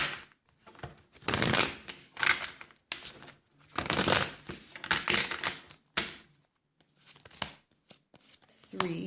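A deck of oracle cards is shuffled in bursts of papery riffling and rustling, close by and alternating with short quiet gaps.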